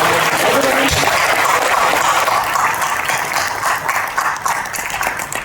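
An audience claps together in a loud, sustained burst of applause at a Tamil film event, dense and continuous throughout with no voices over it.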